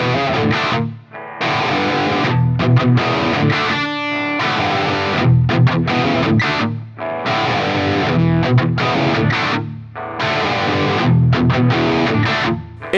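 A Les Paul electric guitar fitted with Tim Shaw pickups, played loud and distorted in sustained chords and riffs with brief gaps, dense and full-bodied throughout, with no voice.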